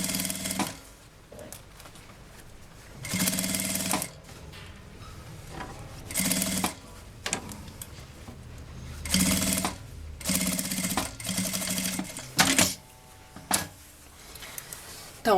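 A sewing machine stitching a seam on a handmade bag, running in several separate bursts of rapid mechanical whirring and clatter with short quiet pauses between them, close and clear.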